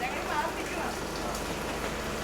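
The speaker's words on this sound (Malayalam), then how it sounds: "ഭയങ്കര മഴയാണ്" Heavy rain pours down steadily on a surface, close and constant for the whole stretch with a dense hiss, no voices over it.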